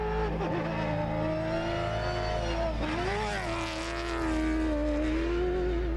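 A V8 rally car at the 2025 Dakar Rally revs with a steady, droning engine note that dips briefly and then swells again, heard close and continuous.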